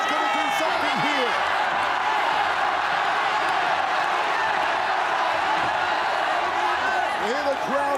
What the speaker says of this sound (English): Here the crowd trying to rally,